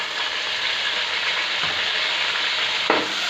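Garlic and tomato fry in a pan with a steady, close hiss and sizzle, broken by a couple of soft stirring scrapes.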